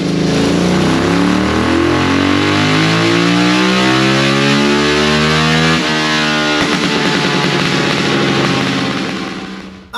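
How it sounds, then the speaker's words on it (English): A Suzuki GSX-R 1000 motorcycle screams on a dyno, one long loud wide-open pull with pitch climbing steadily through the gears before a shift and a final sustained howl that drops away at the end. "We got the GSVR 1000 completed here on the dyno."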